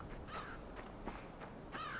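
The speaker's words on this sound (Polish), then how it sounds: "Czy ja słyszę kruka? Słyszę kruka." A raven in the LIMBO video game gives two harsh, rasping caws, one early and one near the end, clear and moderately loud over a soft ambient background.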